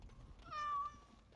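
A single short cat meow from Sir Pouncelot, a cat in Dragon Age: Origins, rises and falls in pitch over about half a second, soft against a quiet background.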